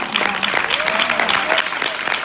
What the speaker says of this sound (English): I want you to clap your hands in this place